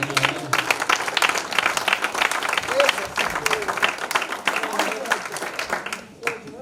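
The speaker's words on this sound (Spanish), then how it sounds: "Denle un aplauso, Señor." A church congregation claps during a Spanish-language sermon on marriage, loud and close with distinct individual claps standing out in the crowd, rising and falling before tapering off near the end.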